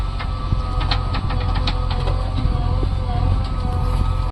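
A farm tractor's engine, just restarted in a field, runs steadily with a close, continuous low diesel throb and a rhythmic knocking beat, with no talk.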